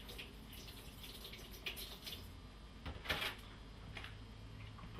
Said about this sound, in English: I have a couple of figs here, and I'm just going to rinse them slightly